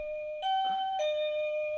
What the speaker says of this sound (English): Little doorbell ringing action.